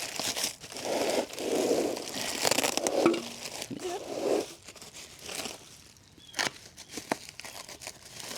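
Packing tape pulled off the roll and torn in a garage while a wagon is being packed, several crinkly ripping bursts with crunching handling noise, close and fairly loud, no talking.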